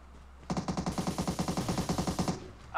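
Rapid automatic gunfire in a PUBG match during a final-zone fight, a fast steady burst of about twenty evenly spaced shots lasting roughly two seconds, loud and close, with no talking over it.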